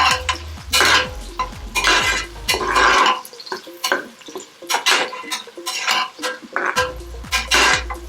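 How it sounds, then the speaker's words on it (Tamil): A utensil repeatedly scrapes and stirs onions in a cooking pan, giving rhythmic close-up bursts of scraping over a soft sizzle. "வெங்காயத்தை போட்டு நம்ம நல்லா கிண்டிக்கலாம்."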